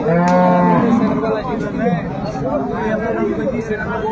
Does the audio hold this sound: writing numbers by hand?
no